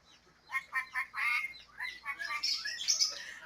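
A pet parrot imitates a duck's quack in a pet shop, giving a string of squawking quack-like calls, first in separate bursts and then in a longer run, fairly faint and without talk.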